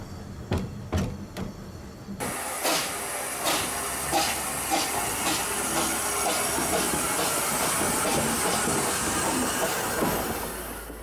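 A Lynton & Barnstaple narrow gauge steam train climbs out of the station, a few sharp whistle-like blasts followed by a steady chuffing exhaust beat with hiss and rumble, moderately close.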